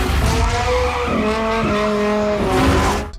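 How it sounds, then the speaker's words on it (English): Dodge Viper exhaust note, a loud, close, continuous engine roar with shifting pitch and a squeal-like edge, heard alone without talk. "let's not forget about that distinctive exhaust note"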